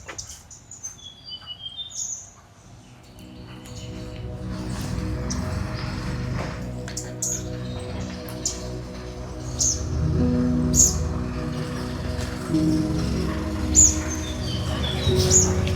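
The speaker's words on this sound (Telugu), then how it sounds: "బర్డ్ సౌండ్స్ కూడా చాలా వస్తున్నాయి ఇక్కడ బర్డ్స్" Several birds chirp and tweet in short, scattered high calls over a low steady rumble and background murmur at a resort, faint to moderate and somewhat distant.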